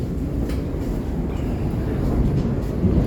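An Elizabeth line train in London runs between stations with a loud, steady low rumble and rolling noise from inside the carriage, continuous throughout with no break.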